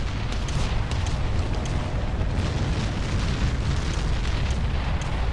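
Bombardment in the strategy video game Ground Control produces a dense, loud, continuous rumble of overlapping explosions and booms, with crackling bursts layered on top.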